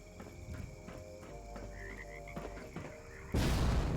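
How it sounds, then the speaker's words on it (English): Frogs in the video game Fallout give repeated low croaks under steady game ambience, ending in a sudden loud burst like an explosion. "I'm sitting there trying to fight off the frogs with that thing"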